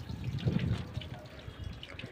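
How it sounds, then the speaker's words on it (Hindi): Water spilling from a full overhead tank and splashing down below, a steady close trickle and gush with gusty wind noise, moderately soft and continuous. "टंकी यहाँ पे पूरी भर गई हमारी और पानी नीचे वेस्ट हो रहा है"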